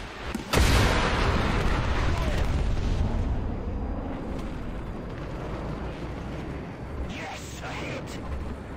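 An anti-tank missile launches in War Thunder with a sudden loud blast, then a long, heavy rumbling roar that slowly fades over several seconds, with a faint whoosh near the end.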